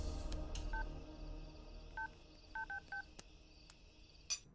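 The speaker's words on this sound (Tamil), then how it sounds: "நான் ஒரு ஃபோன் பண்ணிட்டு வரேன்" A telephone keypad is dialed, giving five crisp beeping tones, one alone and then four in a quick irregular run, with soft button clicks in a quiet room.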